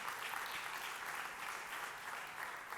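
Congregation applauding strongly during a church service, a steady dense wash of clapping from many hands that holds evenly throughout with no talk over it.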